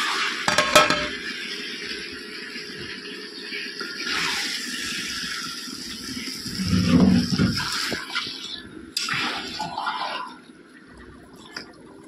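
Meat is stirred and fried in a wok (kadai) for kosha, with scraping of a spatula, clinks against the pan and bursts of sizzling over about twelve seconds, with no speech.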